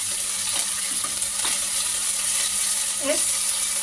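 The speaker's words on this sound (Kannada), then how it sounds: "ಈಗ ಇದನ್ನು ಹಸಿ ವಾಸನೆ ಹೋಗೋವರೆಗೂ ಫ್ರೈ ಮಾಡೋಣ" Ginger garlic paste frying in a pan for chicken biryani, a low steady sizzle with a few soft stirring scrapes, close by and fairly quiet.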